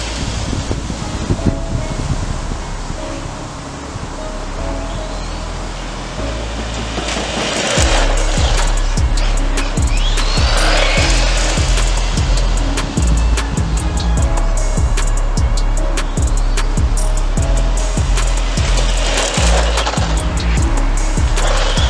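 Tamiya VQS radio-controlled car driving over a hard surface, a quiet hum at first, then louder rattling rolls and rhythmic clattering bumps with high whining motor sweeps as it speeds back and forth.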